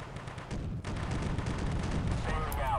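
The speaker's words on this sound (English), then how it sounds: "Yeah, definitely artillery." Artillery fire in the war video game Warfare, a dense rumbling barrage of heavy booms and rapid blasts that fills the whole stretch, loud and continuous, with a voice partly buried beneath it.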